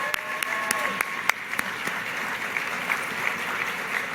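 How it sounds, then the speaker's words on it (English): A crowd applauds Governor Roy Cooper at a Charlotte event with Vice President Kamala Harris, a steady roomful of clapping with a few sharp, louder claps standing out near the start, heard from a distance. "If we could applaud him, please."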